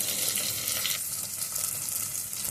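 Ingredients for drumstick sambar fry in a pan, giving a dense, continuous sizzle with faint stirring. No speech is heard.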